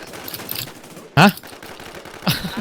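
Gunfire in the Warz video game: one sharp, loud burst of shots cuts through a busy game backdrop, and a weaker second burst follows about a second later.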